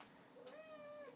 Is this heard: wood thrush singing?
no